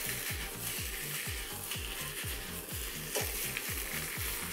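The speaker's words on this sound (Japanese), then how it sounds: "油温まったらまず切ったたけのこ炒めていきます。" Sliced bamboo shoots stir-fried in hot oil for homemade menma, a steady sizzle beneath a quick repeating pattern of stirring scrapes, close up with no talking.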